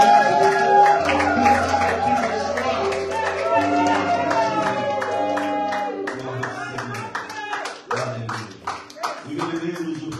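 A church congregation at a Sunday service cheers and applauds for the Lord, with loud sustained clapping and shouts mixed with singing voices and chatter, continuing for several seconds before thinning out.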